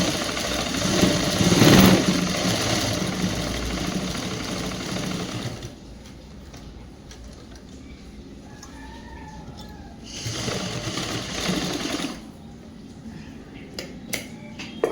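A sewing machine stitches a government school uniform blouse in two bursts of rapid, loud whirring runs, separated by a quieter pause with faint handling noises.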